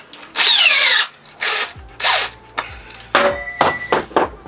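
A Dewalt brushless drill from the DCK266P2 combo kit runs in several short, loud, whining bursts, speeding up and cutting off repeatedly with brief pauses between them, close by with no talk.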